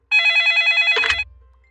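A cartoon telephone bell rings in one bright, loud, trilling burst lasting about a second, then cuts off, leaving a faint low rumble.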